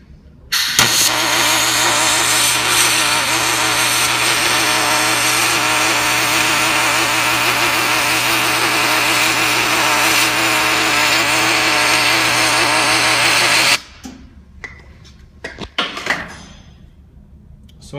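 Steady, loud crackling hiss of a MIG welder running an aluminum bead on a painted part with a suspected poor ground, continuous for about thirteen seconds, then cutting off to brief clanks and faint handling noise.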